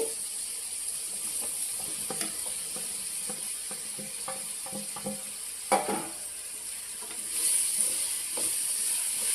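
Ridge gourd pieces fry in a pan for a masala curry, a soft continuous sizzle broken by light scraping and stirring clicks, with a sharper knock partway through and the frying growing slightly louder toward the end.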